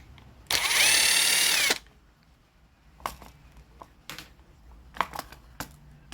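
A chainsaw with a timing fault catches and runs loudly for just over a second with a steady buzzing whine, then cuts out, followed by scattered clicks and clunks of handling.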